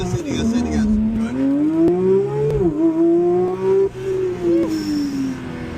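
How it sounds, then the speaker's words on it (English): A Porsche GT3 engine pulls hard through a launch on a track, its rising and falling rev note loud and close under a driver's talk. "Yeah, this engine has a very unique sound."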